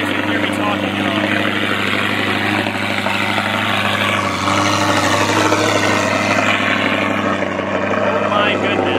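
A manual sports car engine runs loud in race mode, a dense steady roar with a constant low hum filling every moment, near and unbroken, with faint speech under it.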